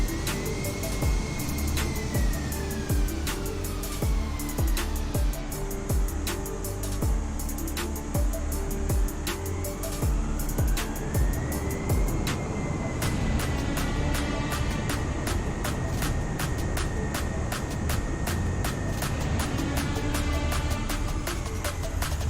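An Airbus A320 taxiing in a flight simulator game: a continuous engine drone with rising and falling whining tones, dotted with frequent sharp clicks, steady and fairly loud throughout.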